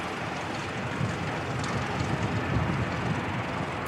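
An ATR turboprop airliner departs from Christchurch Airport, its steady broad engine roar loud and unbroken, holding a constant level throughout with no voices.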